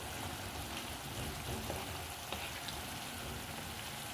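Liver and kidneys fry in a pan as they are mixed, a steady dense sizzle with faint stirring scrapes, close and even throughout, no voices.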